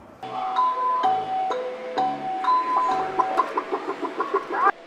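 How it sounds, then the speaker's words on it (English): A robotic chicken that plays tic-tac-toe at a mechanical museum clucks in a series of short, electronic-sounding squawks and tones, irregular bursts ending in a quick run of clucks, close and clear without talk. "He had a robotic chicken made where you can play tic-tac-toe with the chicken."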